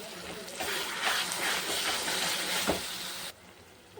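Spice paste hits hot oil with fried onions in a frying pan, a loud continuous sizzle and hiss that settles abruptly near the end.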